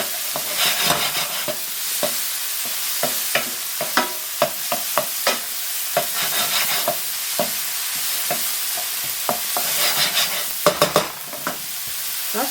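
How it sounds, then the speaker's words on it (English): Onions sweat with a pinch of salt in a pan, giving a steady close sizzle broken by frequent sharp scrapes and taps of a utensil as they are stirred. No voices are heard. "need a pinch of salt to help sweat out those onions"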